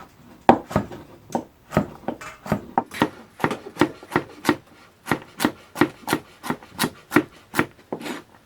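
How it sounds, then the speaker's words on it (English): A knife chops a carrot at an angle on a wooden board, giving about twenty crisp, close, evenly spaced thuds in a steady rhythm with a brief pause partway through and no talking. "We'll rotate the carrot, cut again at an angle."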